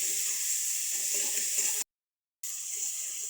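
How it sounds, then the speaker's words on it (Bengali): Salt, turmeric, cumin and chili powder frying in a pan while cooking liver bhuna, a soft continuous sizzle that cuts out briefly to silence and then resumes, no voices. "মশলাটাকে সুন্দর করে কষিয়ে নিব।"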